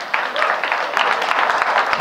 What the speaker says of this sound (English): please, a warm round of applause for José González.